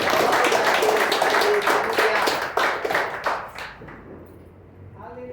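Dense clapping from a church congregation fills the first few seconds, then thins out and fades, leaving a quieter tail with a few scattered sounds.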